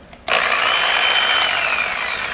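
A power tool polishing a car headlight spins up abruptly after a brief click and runs as a loud, steady whine with a gliding pitch, close by and alone.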